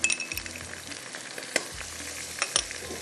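Tomatoes and spices sizzle and fry steadily in a pan with salt and turmeric going in, a dense crackling hiss with occasional stirring clinks, close and fairly quiet, no voices.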